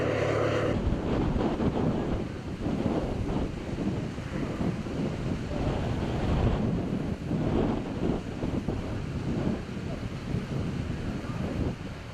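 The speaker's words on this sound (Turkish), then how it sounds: "rüzgar çok şiddetli baksanıza" Strong wind roars and buffets the microphone continuously during a forest fire in İzmir, Turkey, a loud rushing blast that stays heavy throughout.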